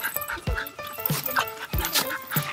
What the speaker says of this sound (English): If you hear panting, it's the dog.